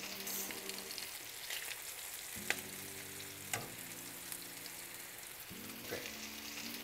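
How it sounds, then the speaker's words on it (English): Onions and jalapeño chiles fry in bacon fat and butter, giving a steady close sizzle with a few sharp clicks and scrapes from stirring, while low hums rise and fall underneath. "we're gonna start frying our veggies in the same oil that the bacon released"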